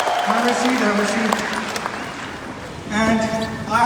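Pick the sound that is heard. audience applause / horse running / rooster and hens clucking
audience applause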